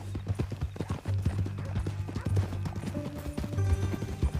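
Horse hooves clip-clop in Red Dead Redemption 2 in a steady, close walking rhythm, with a deep musical drone underneath and a faint whinny-like sound.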